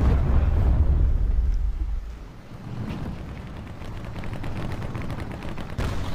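Cannon fire from a T29 premium heavy tank in the War Thunder Mobile game: a loud booming shot up front that fades into a low rumble, with more distant gunfire thuds following.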